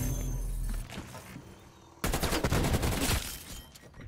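Krig 6 rifle shots in a Call of Duty video game, a loud rapid burst of automatic fire following a quieter stretch, close and sharp.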